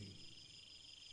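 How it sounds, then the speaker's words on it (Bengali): Steady high-pitched insect trilling fills the night air, with faint low croaking frogs underneath, continuous and moderately distant. "ঝিঝি পোকা আর ব্যাঙের ডাক ভেসে আসছে শুধু।"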